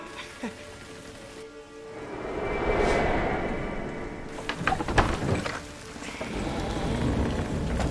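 Heavy rain pouring down in a Tang dynasty drama scene, a dense steady hiss of drops on surfaces at moderate volume that briefly thins and returns, with no talk.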